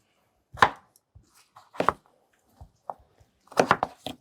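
A knife chopping ordinary potatoes into small pieces on a board, a handful of sharp separate thuds at uneven intervals, close and clear, with a quick double cut near the end and no talk.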